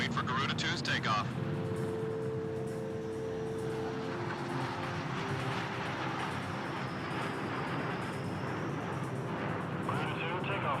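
Jet engine roar of an F-16 fighter in Ace Combat 6, a steady loud broadband rush with tonal whine, heard on a runway at Gracemeria and sustained throughout under game music and radio chatter.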